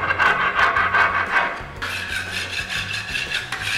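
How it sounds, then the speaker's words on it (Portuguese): A scraper rasps steadily across a dirty griddle coated with chemical cleaner, in repeated close, loud strokes with a gritty, rhythmic scraping texture and no talking. "Só ir raspando"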